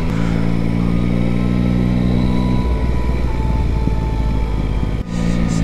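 A motorcycle engine drones steadily at close range, pitch shifting as it cruises along a road beside the Orb river in France, with a brief dip near the end.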